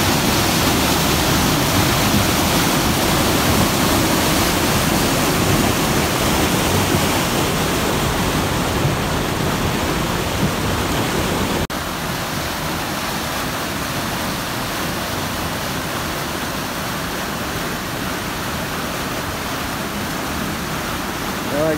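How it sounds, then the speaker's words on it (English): Mill River Falls roars as a powerful waterfall, seen from a rock ledge near where the river empties into a lake. The broad, steady rush of water is loud and continuous, with no talking over it. "This is the Mill River Falls."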